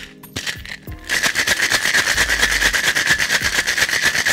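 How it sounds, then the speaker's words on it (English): Cocktail shaker with vodka, agave nectar and lime juice shaken hard, a loud fast rattling of ice against the tin in a steady rhythm after a few opening knocks. "I give it a good shake."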